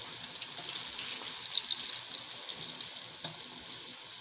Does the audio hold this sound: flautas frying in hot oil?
yes